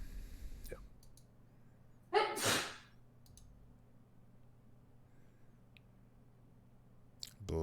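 One person sneezes once, sharp and close, in a quiet indoor room during a tabletop card game, with faint clicks before and after.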